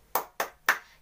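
Three crisp, evenly spaced hand claps in the rhythmic 'tepuk cinta' pattern led by a kindergarten teacher, close and alone with quiet between each.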